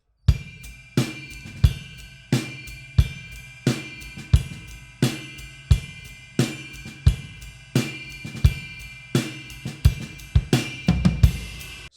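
Drum kit groove with regular ride cymbal strokes and hi-hat, struck cymbal hits landing in a steady rhythm throughout, played alone with no talking.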